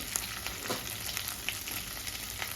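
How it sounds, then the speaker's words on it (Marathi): Crushed chili thecha sautéing in a pan, a soft, steady sizzle with faint scattered crackles and no voices. "वाटलेला ठेचा चांगला परतून घ्यायचा"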